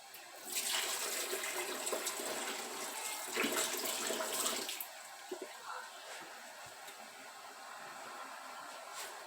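Water pours and splashes into a canning pot holding jars of tomato sauce in a steady rush for several seconds, then tapers off to quieter trickles and clinks.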